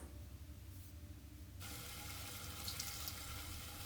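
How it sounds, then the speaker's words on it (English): Water is splashed into a pan of paneer gravy, a steady pouring, running-water sound that starts partway through and grows louder, continuing to the end with no talking. "You can add a splash of water if you feel that your gravy has become too dry."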